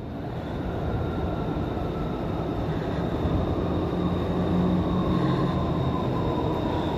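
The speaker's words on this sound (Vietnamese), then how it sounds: "Tàu điện đã tới rồi, nhưng mà tàu đó không phải của mình đi nha các bạn." BTS Skytrain pulling into an elevated Bangkok station, a steady close rumble of wheels and motors with a faint high whine, continuous and even throughout with no talking.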